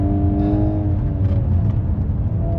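A VW Golf R 8.5 engine pulls steadily on Nordic studded tyres, a loud continuous drone with low engine harmonics and road noise from inside the car, no talk.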